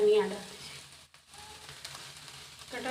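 Samosa filling sizzles in a frying pan while being stirred and mixed, a continuous close frying hiss with soft scraping and a brief dip in the middle.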